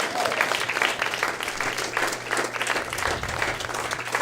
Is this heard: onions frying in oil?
no